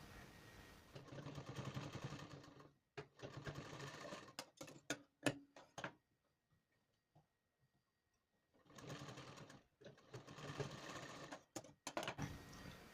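A sewing machine stitches piping onto a blouse in steady whirring bursts, pausing in between with sharp clicks and taps of adjustment, heard close and without speech.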